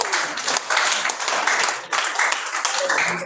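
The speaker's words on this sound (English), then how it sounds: "I think we give ourselves a big applause." Audience applause fills a symposium hall for community leaders' presentations, dense and steady clapping from a room full of people, loud and continuous with slight swells and no talking over it.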